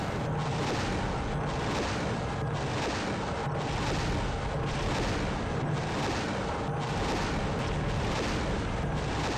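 Missile explosions in Helicops inside the Mt Fuji caves, a continuous barrage of loud booms and rumbling blasts with a pulsing, repeated rhythm and no voices.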